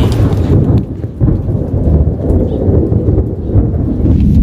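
Heavy rain pours steadily under a bridge in the Alai area while deep thunder rumbles on for several seconds, loud and close, with no talking over it.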